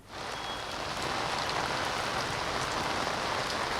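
Heavy rain pours steadily in Ahmedabad on Ambli Bopal road, a dense, loud, continuous hiss of drops hitting surfaces with no voices.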